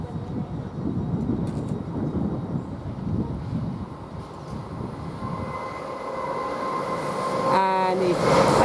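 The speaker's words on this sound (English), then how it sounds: "we've got a train come through here, and right here looks like is a LNER to me" An LNER train, unit 801 213, rolls through Peterborough railway station with a loud, sustained rumble and wheel roar, then a rising whine and horn-like tones near the end. A voice is partly audible under the noise.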